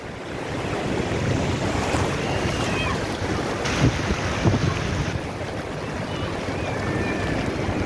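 Ocean waves washing in at Kuta Beach in Bali, a steady, loud roar of surf mixed with wind buffeting the microphone, continuous throughout with no clear speech.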